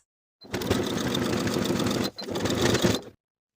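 A sewing machine top stitches straight across the bottom finished edge of a carpenter pant pocket, in two close, steady runs of whirring with a brief stop between them.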